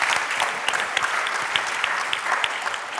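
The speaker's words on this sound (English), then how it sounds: "give a big round of applause to Rose, Christina, Emily," Audience applause for a panel of speakers at a media festival session, a steady dense wash of many hands clapping throughout, fairly close and even in level.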